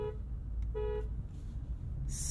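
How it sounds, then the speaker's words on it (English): Horn of a 2023 BMW M8 Competition Coupe, two short honks, the second slightly longer, sounded close by over a low engine idle, followed by a brief burst of hiss. "Now the world famous horn test"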